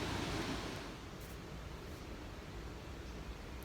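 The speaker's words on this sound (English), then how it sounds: "The river forms a small lake here in front of the waterfall" River water rushes and splashes where it pools into a small lake in front of a waterfall, a steady faint hiss of flowing water with no voices.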